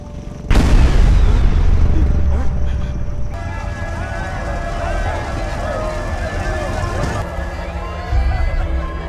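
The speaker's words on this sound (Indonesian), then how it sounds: "Dia lalu menyuruh orang untuk meledakkan gudang milik Sulaiman dan kawan-kawan." A warehouse explosion sets off a sudden loud boom with a broad blast of noise, followed by sustained rumbling, crackling debris and roaring noise, with voices faintly mixed in and a second surge near the end.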